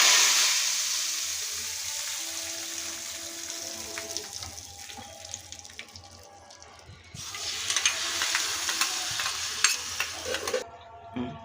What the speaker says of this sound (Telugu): ఇప్పుడు ఈ పోపు ఇందులో వేసుకోవచ్చు